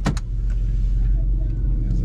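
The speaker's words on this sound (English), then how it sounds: "There's a car coming." A car approaches and passes on a road, a low, loud engine rumble holding steady throughout, with a couple of brief sharp knocks at the start.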